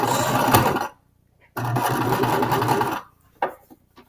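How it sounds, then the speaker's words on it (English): A sewing machine stitching a set-in sleeve runs loud and close in two steady bursts of backstitching and forward stitching, separated by short pauses and followed by a few light handling clicks. "don't forget to backstitch to finish it off. And forward stitch."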